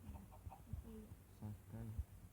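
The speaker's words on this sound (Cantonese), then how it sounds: "隻雞啊！ 殺咗佢。" A chicken in the Minecraft video game gives several short clucks in quick succession, moderately loud with little else around them.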